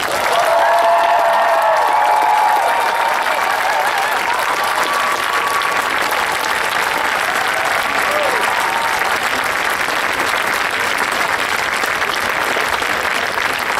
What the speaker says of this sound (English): Would you please join me in giving a loud, appreciative round of applause for Representative Tim Kelly and John Krasel.